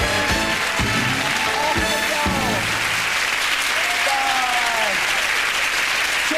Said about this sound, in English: ladies and gentlemen, please, a big, big send-off for David and the old woman